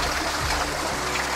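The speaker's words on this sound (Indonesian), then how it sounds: "Air ini sangat melimpah sampai di dinding gua ini penuh dengan tetesan air." Water runs and trickles inside a wet cave whose walls are covered in dripping water, a steady close wash of flowing, splashing water with no voices.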